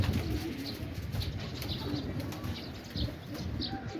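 Pigeons in Quetta, Pakistan coo softly while wings flap in short bursts, close and fairly quiet over a steady outdoor background with no talking.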